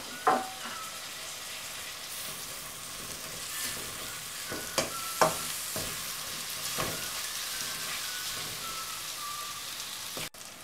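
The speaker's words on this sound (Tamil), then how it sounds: "இப்போ தக்காளி ஆட் பண்ணிவிட்டு இதை நல்லா வதக்கிடணும்." Tomatoes with onions sauté in a pan for a crab pepper roast, with a soft steady sizzle and occasional clicking spatula strokes. The sound is fairly quiet and close, with no talk.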